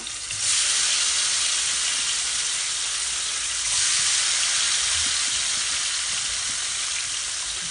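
Onions dropped into a hot frying pan set up a steady loud sizzle and hiss that swells again midway and carries on unbroken, with no voices.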